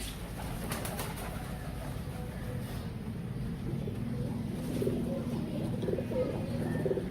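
Royal Teddy pigeons coo softly in a loft, a low steady murmur of several birds blending into faint background noise, with no clear single calls standing out.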